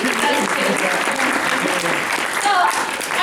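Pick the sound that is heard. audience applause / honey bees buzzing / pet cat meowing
audience applause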